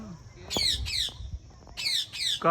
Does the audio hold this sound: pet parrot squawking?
yes